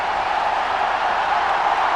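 Test cricket crowd in India cheering a Tendulkar boundary, a dense, loud, unbroken roar of many voices filling the whole moment.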